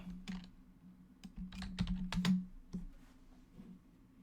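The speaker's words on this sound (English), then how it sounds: "Just typing it in right now." Bursts of typing on a computer keyboard, irregular clusters of quick key clicks with short pauses, close and fairly quiet.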